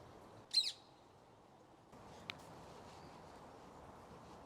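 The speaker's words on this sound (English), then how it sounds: "So we've been dying to actually see these parrots." A single wild parrot gives a short, sharp squawk on a quiet London street, with a faint second call later against soft outdoor background hiss.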